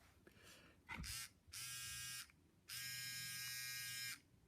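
A Gillette Fusion ProGlide Styler electric trimmer buzzes in two sustained bursts of about a second and a second and a half, close and steady, with a brief click before them.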